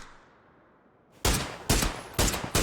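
Gunfire in the video game PUBG during a pro scrim as players shoot through smoke: after a quiet moment, four sharp, loud bursts ring out in quick succession, each trailing off briefly before the next.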